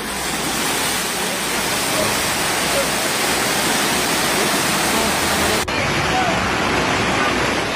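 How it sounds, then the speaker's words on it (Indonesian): Overflowing river floodwater rushing through Leato district in Gorontalo city, heard as a loud, continuous roaring wash of water that never pauses, with a brief cut partway through. "Detik-detik meluapnya air sungai di wilayah Kecamatan Leato, Kota Gorontalo terekam kamera warga"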